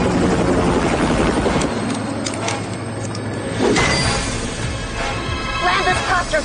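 A helicopter roars steadily throughout in the middle of a tense standoff over spraying locusts, a loud, dense drone with thumping rotor texture and no pause.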